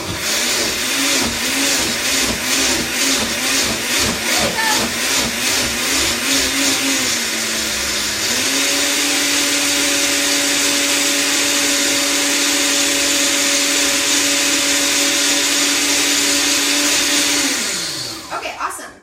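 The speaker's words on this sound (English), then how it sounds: "Keeping it real over here with my blender from the 80s" An old 1980s or 1990s kitchen blender whirs loudly and steadily for a long stretch, its motor pitch shifting partway through before it winds down at the end.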